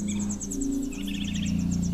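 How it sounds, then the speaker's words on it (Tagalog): Steady bird chirps and repeated tweets in a Sierra Madre forest over a constant low hum, with insect-like trilling in the background. "Tapos huni ng ibon lang ang maririnig dito."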